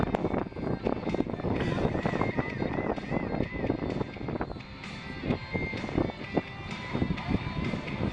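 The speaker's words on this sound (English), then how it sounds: "Rolling the aircraft all the way up." A military jet performs at an air show, its engine roar and rush sustained and fairly loud throughout, mixed with wind and crowd noise.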